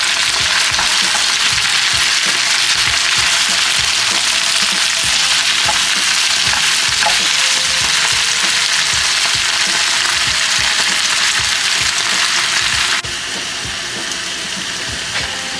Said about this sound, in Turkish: Kavurduğumuz soğan üzerine tarçınımızı ilave ediyoruz. Hepsini güzelce pişireceğiz, kavuracağız.